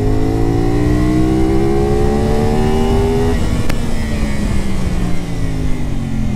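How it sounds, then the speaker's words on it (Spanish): A CFMOTO 450SRS motorcycle engine revs hard in second gear and climbs in pitch, then drops briefly at a gear change and keeps pulling, loud and close throughout. "Segunda, vamos a acelerar así de golpe."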